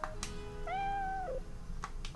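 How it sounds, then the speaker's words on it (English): A single drawn-out cat meow from the farming video game Innocent Life rises and falls clearly over faint game background sound, with a few short clicks before and after it. "Another cat. Another kitty."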